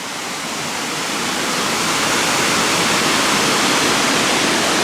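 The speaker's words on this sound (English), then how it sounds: "Just the sound of it and the power of the water gushing down the hillside" A waterfall on Scotland's North Coast gushes down a hillside through rocks in a loud, steady, close rush of water, with no voices.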